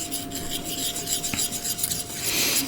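Model paint being stirred in a small container to thin it to a milky consistency, giving a soft continuous scraping and rubbing with one brief clink, close and fairly quiet.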